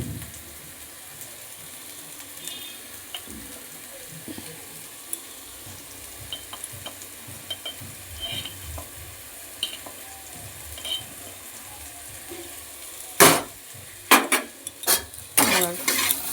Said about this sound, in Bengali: এবার বেগুনগুলো ভাজা করে নিই।